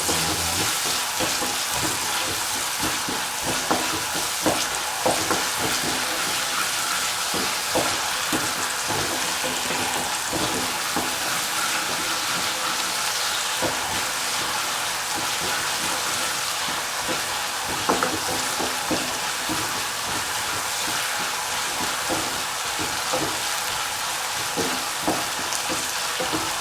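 Garlic fries in hot oil with salt stirred in for a home pickle, giving a steady close sizzle with occasional stirring scrapes throughout, no voices.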